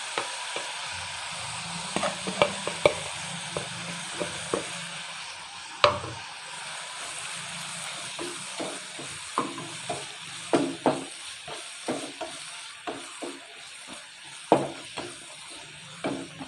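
Chicken with garlic-ginger paste, green chillies and spices cooks in a pan, giving a continuous sizzle broken by frequent clinks and scrapes of a spoon stirring, moderately loud.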